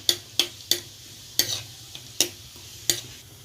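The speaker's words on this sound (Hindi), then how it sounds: "अब तेल में ज़ीरा डाल रही हूँ।" Cumin seeds dropped into hot oil for Rajasthani aloo pyaz sabzi crackle in a series of about seven sharp, close pops over a steady low sizzle, with no talking.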